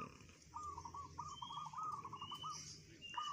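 Perkutut (zebra dove) cooing in a competition setup, a steady run of soft bubbling coos repeated through the clip over constant low background noise.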